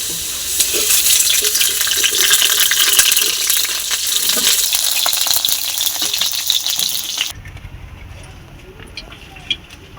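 Oil sizzles loudly as potatoes fry until browned in a wok, a bright crackling hiss that cuts off abruptly near the end, leaving quiet background.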